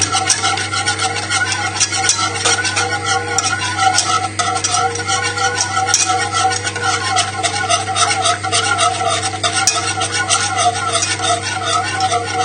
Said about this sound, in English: We'll just keep whisking it till the butter's all emulsified, and it'll just make sure that the sauce is really nice and glossy.